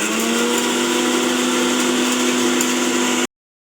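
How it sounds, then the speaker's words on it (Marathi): A mixer grinder whirs steadily, grinding coconut, ginger and garlic, loud and close with a constant motor drone that cuts off abruptly near the end. "सर्वात पहिले मिक्सरच्या भांड्यात आपण खोबरं, आलं आणि लसूण हे थोडंसं बारीक करून घेऊ"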